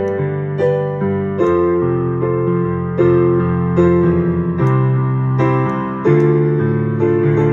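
A piano plays a two-handed chord progression from a song, with full, sustained chords changing every second or so over low bass notes, close and resonant, with no voices.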